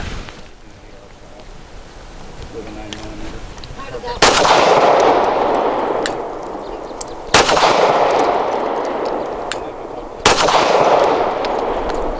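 A Canik METE SFX pistol fires 147 grain Speer Gold Dot rounds outdoors, with three loud sharp shots evenly spaced a few seconds apart, each trailing off in a long echo after quieter rustling.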